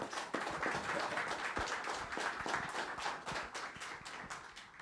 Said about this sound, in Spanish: Vamos a recibirlo con muy afectuosas palmas en estos instantes